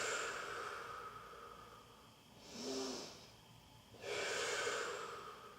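Two slow, deep breaths are drawn close to the mic during a lower-body warm-up for hand balancing, each a soft airy rush followed by a quiet gap, with no talking.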